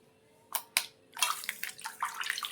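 Sliced raw plantain stirred by hand in a bowl of salted water, with a few sharp splashes and then a run of continuous sloshing and dripping, close up and with no talking.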